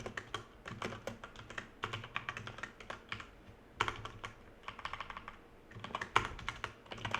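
Rapid, steady typing on a computer keyboard clatters close to the microphone, a dense run of key clicks with brief slowdowns.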